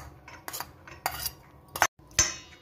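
Chopped onion and tomato get mixed in a bowl, heard as a handful of sharp spoon clinks and scrapes against the bowl separated by near-silent pauses.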